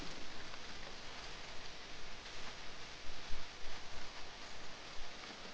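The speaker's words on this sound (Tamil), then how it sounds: "பெரிய மழை பெய்து கொண்டிருந்தது" Heavy rain pouring steadily, a dense, continuous hiss of falling water with faint irregular drops and spatters, fairly quiet and uninterrupted by any voices.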